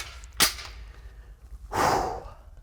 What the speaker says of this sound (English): Maybe I need to unload the gun.